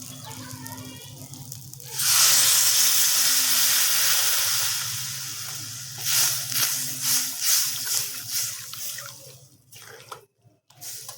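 Water poured into a hot pan of frying potatoes for a curry sets off a sudden loud sizzling hiss that slowly fades, followed by bubbling and clattering as the pan settles, with a voice speaking nearby.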